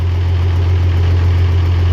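A tractor engine idles in a steady, close, low rumble with a constant even hum and no change in pace, heard alone on a farm.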